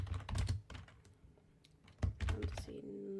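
Close computer keyboard typing comes in two bursts of quick clicking keystrokes separated by a brief near-silent pause, recorded near a desk microphone.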